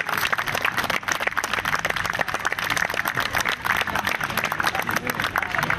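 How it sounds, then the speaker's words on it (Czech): Theatre audience applauding after a curtain call at an open-air living-pictures show, a dense, steady wash of many clapping hands sustained throughout at even loudness. "jestli jste tleskali víc holubům nebo hercům"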